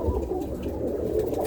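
A roller pigeon hen coos softly in a brief, low, burbling call, close by and faint, with no talk.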